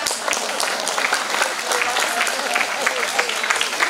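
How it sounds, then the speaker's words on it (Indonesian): An audience applauds at the launch ceremony of a hajj and umrah guidance group, steady dense clapping from many hands throughout, close and even with no break. "Tepuk tangan loh."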